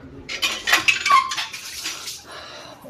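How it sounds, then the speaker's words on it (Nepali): Dishes, pots and pans are washed by hand nearby, with irregular clinks, clatters and scrapes of metal utensils knocking together. "अहिले भाँडा माझ्दैछ।"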